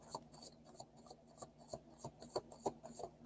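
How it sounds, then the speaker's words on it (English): A tarot card deck is shuffled by hand, giving rhythmic riffling bursts about every third of a second, quiet and close with no talking. "Okay, that was a good shuffle too."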